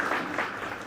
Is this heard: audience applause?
yes